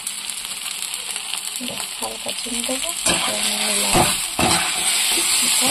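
Food fries dry in a pan with a steady sizzle and scraping stirs, close up, while someone talks over the cooking.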